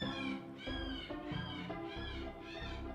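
A cat meows in the horror RPG video game Angels of Death, giving a series of drawn-out, wavering meows one after another at a fairly quiet level, with no speech over them.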